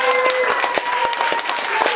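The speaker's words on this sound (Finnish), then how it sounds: "Annetaan jo etukäteen oratorille aplodit" Applause from an audience warming up ahead of an oratorio, dense steady clapping with a faint sustained tone running through it.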